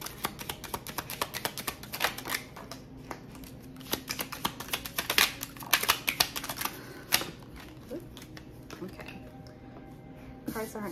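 Tarot cards being shuffled for a general energy reading, giving a continuous run of quick papery riffles and soft slaps up close, with occasional louder card snaps and no speech.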